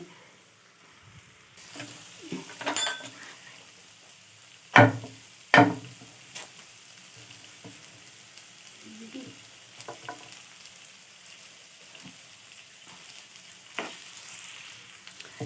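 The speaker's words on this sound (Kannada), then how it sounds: "ಈಗ ಪನ್ನೀರ್ ಹಾಕೋಣ" Diced paneer added to a pan with grated ginger and garam masala for paneer bhurji, frying with a soft, steady sizzle and stirring, broken by two sharp clatters of spoon or pan near the middle, with no talk.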